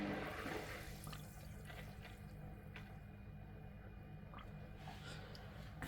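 A used Fluval U4 internal aquarium filter, newly submerged in water, keeps up a faint, steady trickling churn with small splashy ticks, and no one speaks over it.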